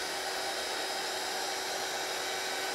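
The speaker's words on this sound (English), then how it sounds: "And just let the heat tool do its job." A craft heat tool blows steadily on card-making scraps, giving a continuous airy hiss that stays loud and unchanging, close to the mic, with no talking.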